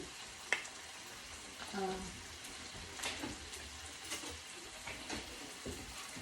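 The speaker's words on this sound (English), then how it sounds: "Onions, and let them saute up." Onions sautéing in a pan for ground turkey tacos, a soft steady sizzle with occasional utensil taps and stirring scrapes, fairly faint.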